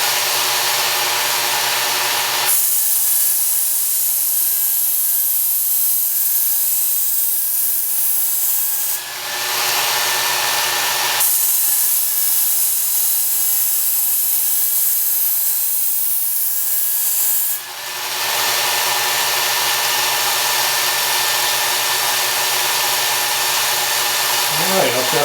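A knife edge grinds against the running belt of a Work Sharp Ken Onion belt sharpener in two long passes, each a steady bright hiss broken by a brief pause, with the motor's hum carrying on alone at the end.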